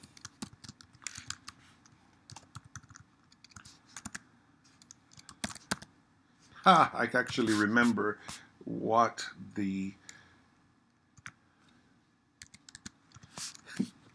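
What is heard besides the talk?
typing on a computer keyboard to enter information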